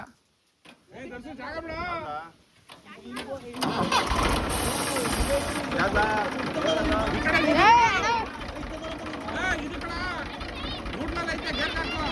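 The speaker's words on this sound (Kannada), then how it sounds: "ನಮ್ಮ ಅಣ್ಣ ಟ್ರ್ಯಾಕ್ಟರ್ ಓಡಿಸ್ತಾರ ಈಗ" A tractor engine cranks and catches in a village, then settles into a steady rumbling idle, with voices talking over it.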